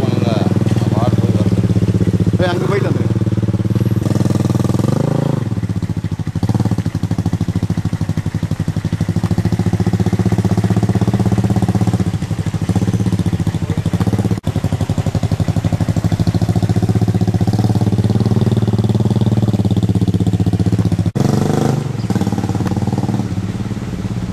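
A student-built motorcycle engine idles steadily and loudly at close range, a continuous low rumble with slight revving bumps, while people talk over it.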